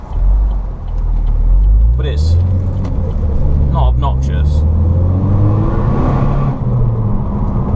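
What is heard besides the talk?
Vauxhall Astra GTC VXR turbo and exhaust while driving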